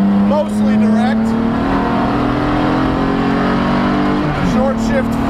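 A BMW E46 330ci Spec race car accelerates hard on a track with a loud, continuous in-car engine drone. The pitch climbs steadily, then drops briefly at a gear change near the end.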